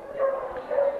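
A dog at a Petit Basset Griffon Vendéen show gives two short, tonal yips or barks, close and moderately loud, with crowd noise in the background.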